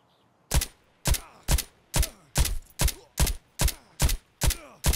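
Pistol shots from 9x21 SP-13 rounds fired at armor in Escape from Tarkov: about ten loud, sharp reports at an even, steady pace, each with a short decaying tail, with no talking.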